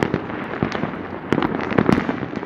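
New Year fireworks burst in a rapid, irregular series of sharp cracks and pops, some louder and closer than others, over a crackling background.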